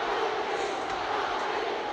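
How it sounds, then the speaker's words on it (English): Boxing crowd of over 21,000 at Madison Square Garden for Ali versus Frazier, a dense continuous roar with rhythmic chanting blended into the noise. "And you can hear the chant in the background."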